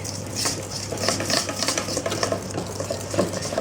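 Cake batter being whisked by hand with a regular whisk for a vanilla sponge, a quick rhythmic clatter and swish of wire against the bowl, close and steady with no voices.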